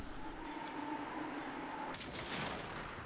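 A single gunshot rings out in the video game Wasteland 3, a sharp crack near the two-second mark followed by a short decaying rumble over a quiet, steady background hum.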